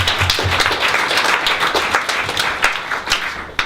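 Audience applause at a 2015 Tohoku update event fills the room with dense, steady clapping from many hands, loud and close throughout, with no break.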